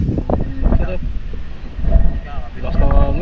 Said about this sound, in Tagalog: Bilas na hangin.